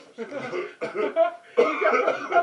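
Three bursts of coughing with short gaps between them, close and fairly loud, a bit hoarse and raspy, with no talking alongside.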